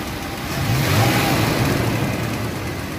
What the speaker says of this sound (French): Le petit rugissement du V6.